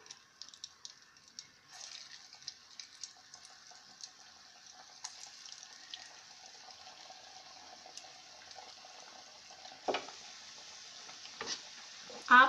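Vegetable hara bhara kebabs shallow-frying in hot oil, a soft continuous sizzle with scattered pops and crackles, growing busier toward the end with a few sharper clatters.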